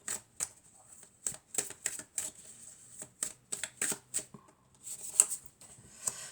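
A deck of oracle cards is shuffled up close: a quick run of sharp, papery riffles and slaps in an irregular rhythm, with a quiet room behind and no talking.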